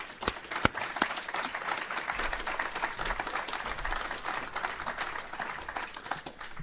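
An audience at an Iowa State University agronomy seminar applauds to welcome a speaker, a steady, moderately loud wash of clapping from a crowd in a hall with a few sharper individual claps.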